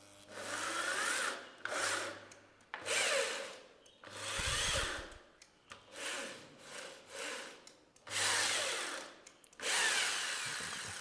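A power drill drives screws into a Shailwood WPC board, with the board rotating as a screw goes in. About seven whirring bursts, each a few seconds long, come close and loud with short gaps between them.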